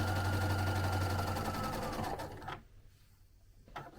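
Sewing machine set to zigzag stitching chenille onto the scalloped edge of a quilt, a fast steady mechanical whir for about two seconds before stopping, followed by quiet handling noises.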